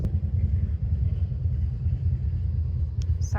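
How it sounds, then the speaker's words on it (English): A motorcycle passes on a busy midtown city street, a continuous low engine rumble that stays fairly close and steady throughout, with city traffic around it. "Sorry if you can hear that motorcycle sound."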